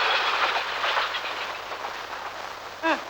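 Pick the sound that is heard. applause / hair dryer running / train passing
train passing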